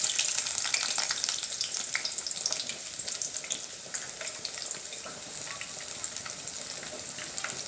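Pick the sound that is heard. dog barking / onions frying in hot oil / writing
onions frying in hot oil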